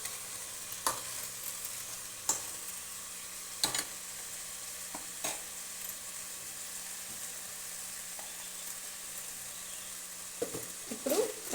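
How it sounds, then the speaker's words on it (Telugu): Broad beans fry in a pan under a quiet, continuous sizzle, with occasional sharp stirring knocks and scrapes spaced a few seconds apart. "బాగా ఫ్రై అవనిద్దాము."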